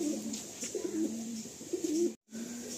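Madrasi pigeons in a loft give soft, repeated throaty coos in a steady rolling rhythm, fairly close and low in level, with a brief silent gap near the end.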